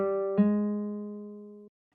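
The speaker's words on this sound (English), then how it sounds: "Let's just leave it on nylon pluck guitar. And let's drop that down an octave" A nylon plucked guitar sample in a software sampler, pitched down an octave, plays one soft note that rings and decays steadily for over a second before cutting off cleanly, heard alone.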